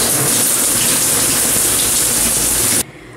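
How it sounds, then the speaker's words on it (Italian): Hot shower water runs steadily in a broad, loud gush that fills the space, then cuts off abruptly near the end, leaving a faint room tone. "Quindi ho fatto una bella doccia calda e va meglio."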